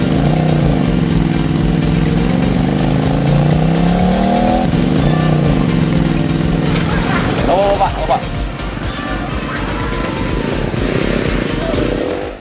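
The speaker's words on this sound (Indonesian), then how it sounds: "Pas banget ya fams kalau pakai tunggangan motor trail" Trail motorcycles ride over a green, hilly track near a beach, engines droning and revving with rising and falling pitch, loud and close, under continuous talk.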